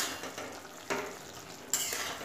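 A potato and long bean curry in a pan being stirred after uncovering, giving soft scraping and a faint sizzle with two small clinks of the spatula.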